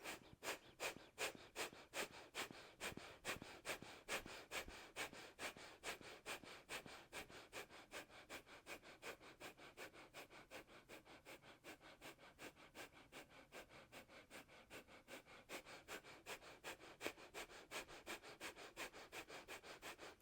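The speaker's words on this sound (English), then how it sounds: "Forceful exhales out of the nose." Forceful nasal exhales repeat in a fast, steady rhythm as breathing practice, each a short sharp puff through the nose, close and fairly quiet, with no talking.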